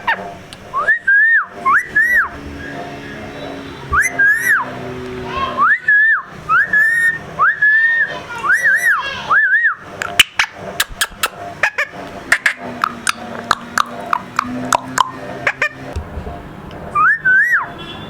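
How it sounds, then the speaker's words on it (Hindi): A female pet parrot whistles loud, close, rising-and-falling tuneful phrases, repeated in short bursts with brief pauses and mixed with sharp chirps and clicks across the stretch. "बस सीटी जाती है, लेकिन उसका नेचर देख के लग रहा है कि वो एक फीमेल पैरोट है"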